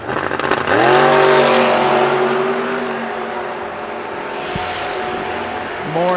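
Two drag race cars, a Camaro and a Nova, launch side by side at a dragstrip. Their engines swell to a loud, rising roar that holds steady, and another engine revs up sharply near the end.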